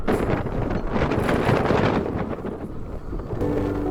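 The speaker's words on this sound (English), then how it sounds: "Very windy today." Strong wind of 20 to 30 knots roars steadily across the microphone, a loud continuous rumbling buffet with no pauses.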